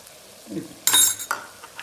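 Onions softening in oil in a pan give a low sizzle, then a sudden loud burst of frying and a couple of short scrapes as they are stirred, close by.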